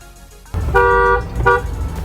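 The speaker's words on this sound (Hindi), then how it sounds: "डुअल हॉर्न है" Dual horn of a 2024 MG ZS Astor Savvy Pro car, two short honks in quick succession, the first longer than the second, close and loud over a low engine hum.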